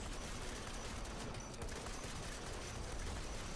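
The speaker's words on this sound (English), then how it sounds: "you just have to pummel them with gunfire or melee attack them until their armour comes off" Dense, continuous gunfire from the video game Strange Brigade, a steady loud barrage of rapid shots layered over each other for a few seconds, with no pauses or talking.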